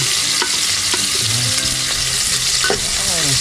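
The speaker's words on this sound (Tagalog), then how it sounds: "Nalagay ko na po yung bawang." Garlic sizzles steadily in a hot pan with a few stirring scrapes against the metal, a continuous close frying hiss filling the short stretch with no talk.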